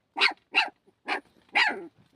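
A puppy barks from inside a burrow, four sharp, close barks spaced roughly half a second apart, with a faint yip trailing after the last one.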